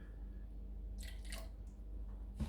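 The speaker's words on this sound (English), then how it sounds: "I'm going to mix the remainder of my deep sea with a little dash of water just to thin it out a little bit" Deep-blue acrylic paint is stirred with a dash of demineralized water, giving a few soft, close squishing and dabbing sounds in a quiet room.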